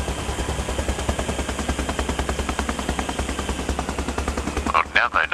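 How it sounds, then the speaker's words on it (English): A steady, rapid stream of heavy automatic fire from an aircraft gun run in Arma Reforger thuds on for about five seconds over a constant engine drone, ending with a few louder bursts. "I'm doing a gun run on them."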